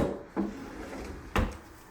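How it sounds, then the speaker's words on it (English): Kitchen drawers in a manufactured home sliding and shutting, two quick wooden thuds about a second apart, close and fairly quiet with no talking. "Let me show you some of the drawers"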